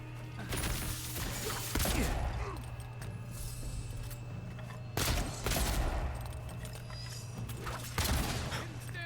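Spell-cast gunfire in the fantasy game Avowed comes as several sharp blasts spaced a few seconds apart over a steady hum of battle noise, with voices talking faintly beneath.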